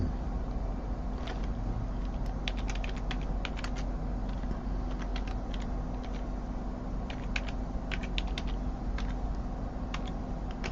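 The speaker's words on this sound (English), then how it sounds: "Let me just type this in" Keys clatter on a computer keyboard in scattered bursts of taps beneath a steady background hum.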